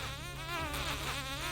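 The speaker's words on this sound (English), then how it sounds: "he could hear a buzzing sound coming towards him. And before he can even make out what he heard, he saw a group of bees closing by" A swarm of bees as a sound effect, a close, steady buzzing drone that wavers in pitch and grows slightly louder as it goes on.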